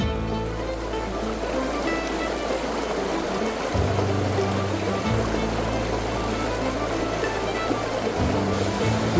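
Creek water rushes steadily along a mountain trail crossing in the Cabinet Mountains, a continuous broadband wash with a low rumble underneath and no voices over it.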